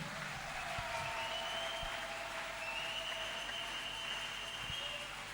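A church congregation claps and cheers continuously during a Sunday worship service, a dense, even wash of applause that holds steady throughout.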